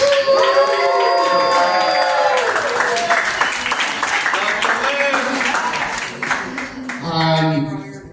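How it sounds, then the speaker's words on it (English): An audience claps and cheers for a woman being introduced, with sustained applause mixed with voices and whoops throughout and a brief swell near the end. "Give a round of applause for my big sister,"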